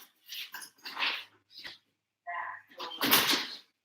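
A dog makes a few short, close snuffling and whimpering sounds with brief pauses between them, indoors and fairly quiet.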